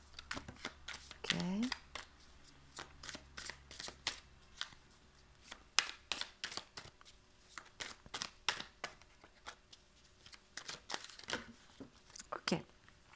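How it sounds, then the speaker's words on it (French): A deck of tarot cards is shuffled close up: a run of quick, crisp papery snaps and riffles in a quiet room, with brief pauses between bursts. "je vais faire sauter les cartes"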